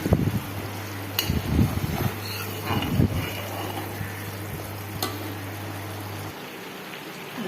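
Milk cream cooking down into homemade ghee in a pan gives a steady soft sizzle and bubbling, with intermittent scraping and stirring sounds close by and a low steady hum underneath.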